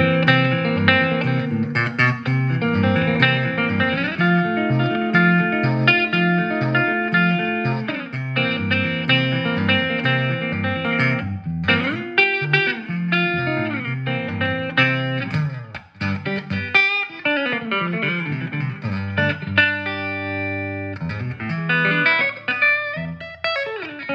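An electric guitar through a Fender '65 Twin Reverb Reissue tube amp, bright switch on, plays a long melodic passage with a distorted, effected tone and a roomy reverb tail on sustained notes.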